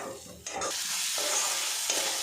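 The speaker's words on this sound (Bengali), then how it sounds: "মশলার সাথে ডালটা কিছুক্ষণ কষিয়ে নেব।" Lentils stir-fried with spices in hot oil hiss and sizzle close up, with a spoon scraping and tossing them in short strokes against the pan.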